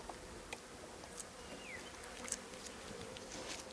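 Honey bees buzz steadily around a hive at a beekeeping site in Ouégoa, a dense continuous drone with individual insects flicking past, no voices.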